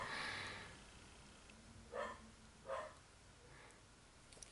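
Dogs bark faintly in the distance on a noisy morning: two short barks stand out from a quiet room tone, with soft sounds at the start and end.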